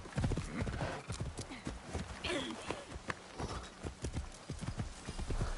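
Horse hooves clattering at a fast gallop with a brief whinny partway through, steady rhythmic clip-clop under a busy Assassin's Creed Shadows game soundscape.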